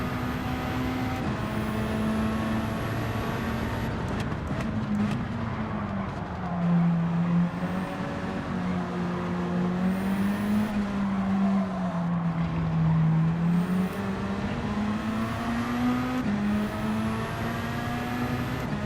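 Lamborghini race car engine in Gran Turismo 7, a steady droning tone that rises and falls with gear changes and throttle, sustained close and loud throughout with no talk over it.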